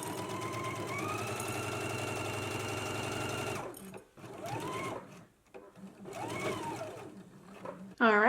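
A sewing machine stitches a skirt seam at a 5/8-inch allowance, its steady motor hum running for several seconds before breaking off into quieter handling sounds and scattered rustles, with a brief loud burst at the end.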